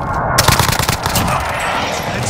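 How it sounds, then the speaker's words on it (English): Dense automatic gunfire from a video game airstrike, with rapid loud bursts packed into the first second, then continuing as a sustained roar of fire. "Friendly precision airstrike inbound."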